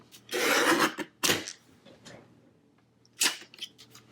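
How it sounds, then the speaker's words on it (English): Paper trimmed for a planner dashboard, with about an eighth of an inch cut away, making a long rasping slide, a short scrape and a later stroke, all close and loud against a quiet pause. "I'm going to trim approximately 1/8 of an inch and then go to the other side and do the same"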